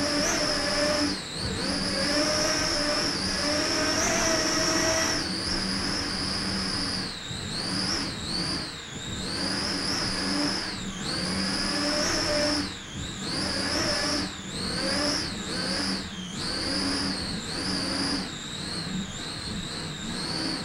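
A race vehicle at the Daytona beach race revs hard with a loud, continuous high-pitched engine whine that rises and falls repeatedly as the throttle is worked, with no talking.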